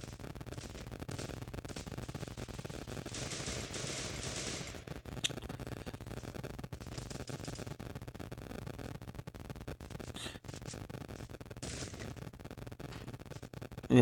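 Bursts of gunfire and shotgun blasts in the battle game Free Fire, sharp repeated cracks scattered across a busy, noisy background, mostly steady with occasional louder hits.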